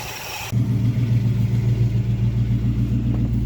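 A car engine fitted with a Quick Fuel Slayer SL-450-VS 450 cfm carburetor settles into a loud, close, lumpy idle with a steady pulsing rumble after being put in gear, running alone without any voices.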